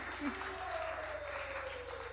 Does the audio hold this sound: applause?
yes